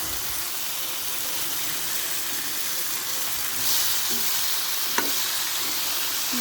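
Chilli powder, turmeric and green chillies frying in a curry pan, a steady hissing sizzle heard close up, with a brief clink of a utensil near the end.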